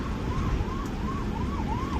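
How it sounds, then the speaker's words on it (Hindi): An ambulance siren wails on a highway in a repeating rising and falling pattern, heard from inside a moving car over steady road and engine noise. "ये एम्बुलेंस भी आ गई"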